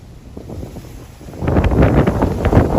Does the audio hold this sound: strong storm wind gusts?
yes